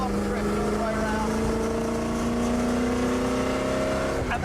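A race car drifts through a corner at Le Mans, its engine note holding a long steady howl that climbs slightly before dropping sharply at the end, loud and close under a faint background of wind.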